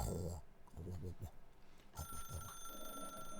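Electronic telephone ring in The Stanley Parable, a steady tonal trill starting midway and continuing to the end, heard behind a person talking earlier in the clip.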